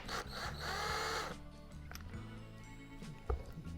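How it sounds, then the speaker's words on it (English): An impact wrench loosens the flywheel nut on a 1974 Honda XL70 motorcycle engine, giving one loud, close burst of about a second before dropping to quieter workshop handling noises. "it comes off real easy with an impact"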